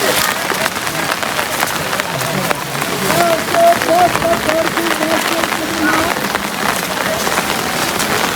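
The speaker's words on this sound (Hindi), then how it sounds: "देख लो बारिश कितनी तेज़ हुई और साथ में ओले गिरे" Heavy rain with hail on the Kedarnath trek, a dense loud patter and hiss of drops and hailstones striking surfaces close around, steady throughout with a voice talking over it.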